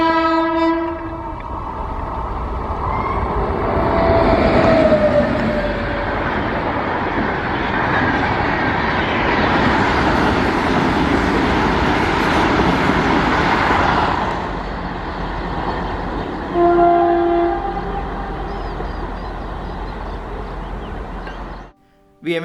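A train passes close by at Rajankunte, its loud rolling rumble continuing throughout, with horn blasts sounding early and again near the end before the noise drops away abruptly.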